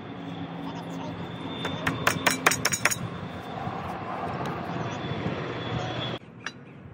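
Several sharp hammer strikes on nails, a rapid cluster of impacts, ring out close over steady outdoor background noise while a wooden floating dock frame is assembled with 1.5-inch nails.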